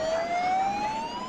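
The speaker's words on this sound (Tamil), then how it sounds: "மணிகண்டன், இப்போ ஒரு 5-6 ஆம்புலன்ஸ்களை பார்க்க முடியுது." An ambulance siren wails steadily at a crowded emergency scene in Karur, a single rising tone sounding loud and continuous over a dense background of crowd and traffic noise.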